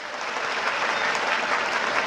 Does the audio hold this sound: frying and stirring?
no